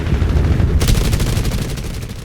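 A PBY Catalina gunner fires back in a flight combat game, a rapid burst of close machine-gun fire over a loud, rumbling engine drone.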